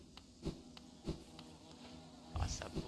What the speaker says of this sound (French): bourdonne, ça bourdonne